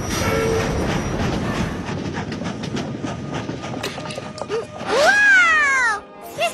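A cartoon train runs along the track with a steady rattling clatter, then a bright rising whistle-like squeal sounds near the end, loud and close, with no one speaking.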